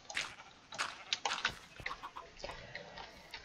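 Chickens clucking in the video game Minecraft, several short soft clucks and squawks spread unevenly over a few seconds, faint and near, with no talk.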